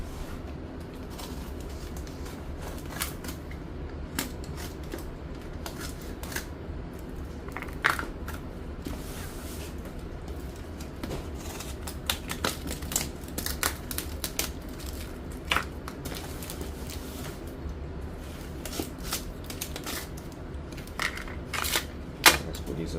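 A blade cuts open the side of the cardboard box holding a Bincoo S1 Pro semiautomatic espresso machine, giving a long stretch of steady scraping and crackling with scattered sharp snaps and crunches, close by and fairly even in level.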